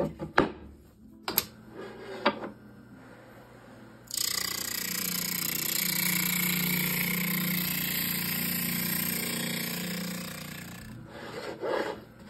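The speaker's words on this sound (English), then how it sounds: "I just grind the width of the quill, and then to grind the thickness" A grinder working the thickness of a feather quill on a setup with a spacer bar gives a sustained close rasping whir for about seven seconds, framed by scattered knocks and handling clatter before and after.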